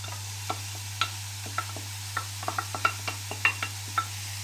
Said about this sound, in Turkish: şimdi sebzelerini kavurayım. Soğanımı döküyorum.